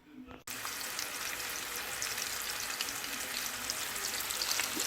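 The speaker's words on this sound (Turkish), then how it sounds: "Şimdi köftemi kızartacağım." Köfte meatballs fry in a pan with a loud, steady, close sizzle that starts abruptly and crackles evenly throughout.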